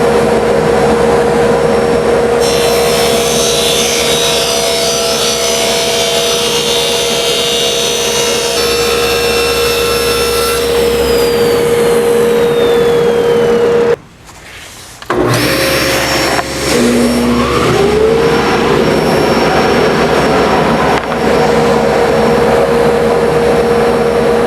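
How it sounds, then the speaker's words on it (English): A power saw rips both edges of a wood board, whining loudly and steadily with a droning motor hum, briefly going almost silent near fifteen seconds before the running noise returns. "I'm going to go ahead and rip both edges clean so I've got a nice straight edge to work with"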